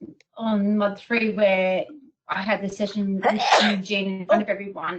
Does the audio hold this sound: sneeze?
yes